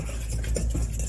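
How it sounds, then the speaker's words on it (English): Vegetables being stirred in a pan with a utensil, a short burst of soft scraping and faint clinks, close and fairly quiet, with no voices. "Just stir things around in there a bit."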